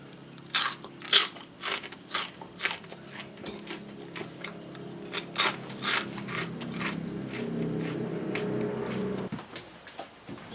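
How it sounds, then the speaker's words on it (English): Crunchy bites into fried homemade Takis-style tortilla chips, unspiced, with a series of sharp crisp crunches close to the mic, then steadier chewing, no talking. "I'm going to eat one even though they won't taste like a Taki yet, just to tell you so you can know the crunch factor is going on"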